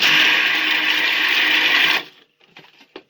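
A blender whirs loudly for two seconds as it mixes dry Christmas pudding ingredients, including ground allspice and cloves, then cuts out, followed by a few faint knocks and clatters.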